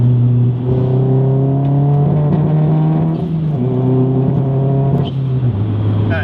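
A turbocharged Mazdaspeed 3 running about 23 psi of boost accelerates hard, with a loud, steady engine note that climbs in pitch through the gears and dips briefly at each shift.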